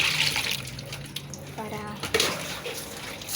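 Water splashes and trickles as it is poured, with a person's voice briefly heard over the flow.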